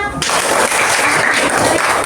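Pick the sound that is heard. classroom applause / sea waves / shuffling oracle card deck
classroom applause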